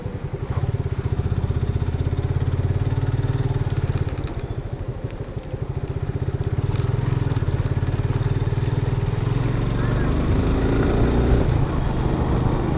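A Suzuki Gixxer motorcycle engine runs nearby with a steady, throbbing putter, briefly dipping before revving back up to a constant loud drone.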